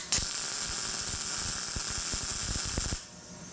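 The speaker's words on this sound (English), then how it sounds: "Time to do some welding." Welding on a rusty Jeep shifter part, a steady close buzzing crackle lasting about three seconds before cutting off abruptly.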